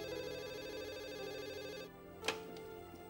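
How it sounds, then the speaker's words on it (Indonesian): A telephone rings with a steady, sustained electronic tone that cuts off about two seconds in, followed by a sharp click as the receiver is picked up, then a quiet room. "Kok kamu angkat teleponnya?"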